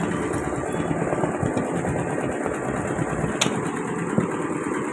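An embroidery machine running a second stitching pass over a border design, giving a steady close mechanical whirr with a faint rhythmic chatter throughout, free of speech.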